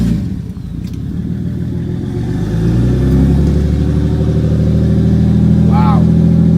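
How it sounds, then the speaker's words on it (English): Toyota Supra engine with a loud muffler, heard close as it roars and builds in revs, a heavy throaty drone that swells and holds near full volume with a brief whine on top. "I'm gonna start the car and see how noisy the muffler is"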